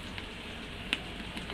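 Chopped ginger hits hot oil in a pan for a vegetable chop, giving a brief close, steady sizzle with a couple of faint clicks and no talking.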